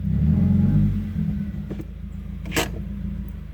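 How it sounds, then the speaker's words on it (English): A Subaru WRX engine at idle rumbles low and steady after a short rev, the revs sagging down, with a brief clunk and rattle nearby. "Look at the RPMs, how they drop so low."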